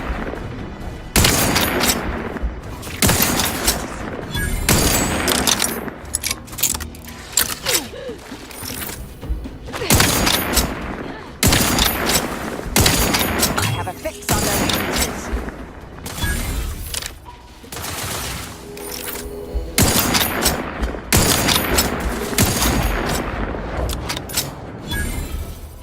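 Gunfire rings out in the video game The Outer Worlds 2. Repeated loud bursts of shots and booming impacts arrive in close clusters across the whole stretch, with brief lulls between volleys.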